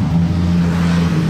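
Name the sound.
Lamborghini sports car engine revving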